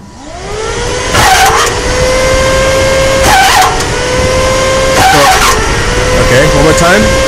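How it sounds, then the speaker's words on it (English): A V8 engine being bumped over on its starter during hydraulic lifter adjustment, cranking in short bursts with clear pauses between them, close and fairly loud, with people talking throughout. "what we're going to do now is bump the car over"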